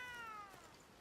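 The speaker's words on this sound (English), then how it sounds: "Where's the cat?" A cat in the Blacktail video game lets out a single drawn-out, falling meow, faint and somewhat distant, with nothing else over it.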